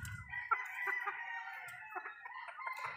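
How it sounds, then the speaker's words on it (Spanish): Hens cluck and murmur steadily in a flock of gamefowl, a layered chatter of overlapping calls at moderate volume with no voices over it. "estas son las gallinas"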